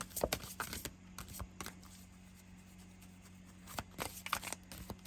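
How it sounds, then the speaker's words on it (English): A deck of oracle cards is shuffled in quick riffling bursts, one flurry at the start and another near the end, with a quieter pause between, soft and close. "Let me shuffle."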